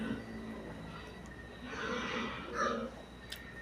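Cold pigs squealing in a pen, a couple of rising squeals over a low steady background hum, with faint voices underneath.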